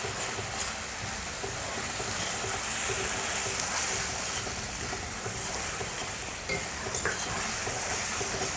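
Ground shallots sauté in a pan for a village-style eel fish curry, a steady sizzle and hiss running throughout at moderate volume with occasional stirring scrapes, no voices.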